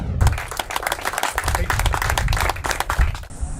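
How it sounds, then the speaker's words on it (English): Clapping from a crowd at a fire department groundbreaking celebration in Bulverde, Texas, dense and steady for a few seconds before stopping abruptly, with some voices mixed in. "claps all the way around there this morning"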